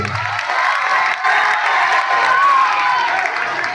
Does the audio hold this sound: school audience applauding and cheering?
yes